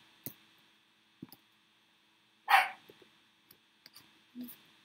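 A dog gives a few scattered short barks indoors, near and sharp, separated by gaps with small clicks and quiet between them.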